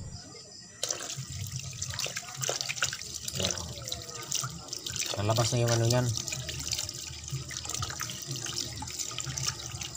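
Running tap water pours steadily over chicken intestines (isaw) being rinsed in a sink, a continuous splashing stream with a few louder gushes, while a person talks over it.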